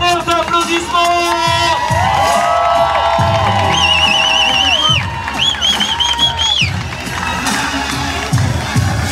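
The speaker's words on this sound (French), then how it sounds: "Je pense qu'il mérite un tonnerre d'applaudissements." A crowd cheers and claps at a trail-running podcast show, with whoops and whistles rising over the noise, loud and close, amid energetic background music.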